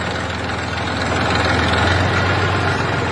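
A Massey Ferguson 1035 tractor engine runs steadily at idle, a loud, constant low diesel rumble close by that holds level throughout with no speech over it.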